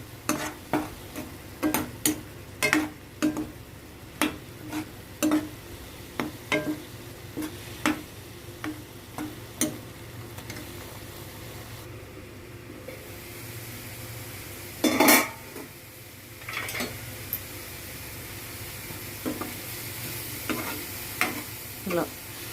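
Beans fry in a pan with a steady sizzle, broken by frequent sharp scrapes and clinks of a utensil stirring against the metal, one louder clatter near the middle, and no voices.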